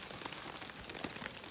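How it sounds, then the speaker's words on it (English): Rain patters steadily onto surfaces at an outdoor camp in the early morning dark, a soft, even hiss of scattered drops, faint and continuous with no voices. "I'm sure you can probably hear it's raining."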